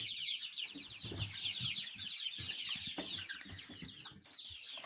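Young chickens of mixed breeds, including naked-necks, cluck and cheep in a warm farm shed, a busy chorus of overlapping calls that stays fairly faint and continuous.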